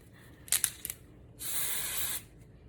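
Dry shampoo sprayed from an aerosol can onto hair: a few short hissing bursts, then one longer sustained spray, close and fairly quiet.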